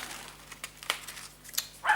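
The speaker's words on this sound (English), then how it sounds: "the dog's barking at something" A dog barks a few times indoors, short muffled yaps off to the side amid faint rustling, with the loudest bark at the end.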